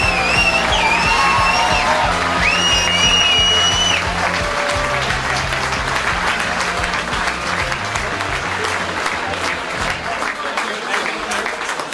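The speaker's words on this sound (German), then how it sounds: "Einen Applaus, danke!" Crowd at a charity ski race in the snow applauds loudly on and on, with whoops and whistles over the clapping and a voice talking briefly over the noise at the start.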